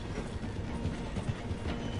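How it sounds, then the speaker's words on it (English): A steam-era train in the Red Dead Redemption 2 video game rumbles along its rails as it slows through a station, giving a continuous loud clatter with faint rhythmic clicks. "The train is slowing down to go through the station."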